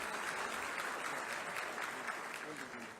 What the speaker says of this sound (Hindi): आप सभी की अनवरत तालियां